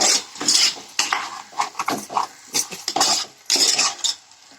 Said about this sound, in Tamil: இப்போ நல்லா ஒரு பெரட்டு பெரட்டுவோம்